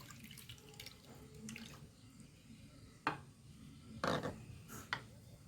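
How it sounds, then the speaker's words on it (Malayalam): Tamarind water poured into a fish curry, heard as a few brief splashing, liquid bursts over a low background hum, with the loudest gush near the end. "ഇനി ഇതിലേക്ക് പുളി ഒഴിച്ചു കൊടുക്കാം കേട്ടോ പുളിവെള്ളം"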